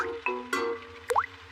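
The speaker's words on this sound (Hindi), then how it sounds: "डैडी पिग बूंदें इकट्ठा करने के लिए बाल्टी का इस्तेमाल कर रहे हैं" Cartoon water drops plop one after another into a bucket set out by Daddy Pig, a few short, clear drip sounds with a rising squeaky tone at the end, heard alone.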